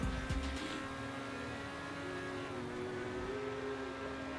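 A fast sports car in GTA Online hums with a steady, fairly faint engine drone, with a brief louder burst right at the start and no talking.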